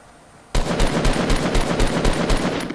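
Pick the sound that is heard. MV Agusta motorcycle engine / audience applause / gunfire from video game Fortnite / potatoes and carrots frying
gunfire from video game Fortnite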